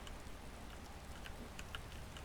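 Steady rain in Skyrim modded with Echoes of Oblivion, a faint even hiss of falling drops with a few soft ticks and patters, heard alone without talk.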